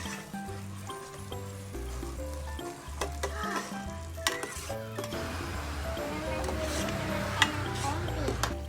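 Soup ingredients sizzle and crackle steadily as they sauté in a hot pan, with background music and a voice talking faintly over it.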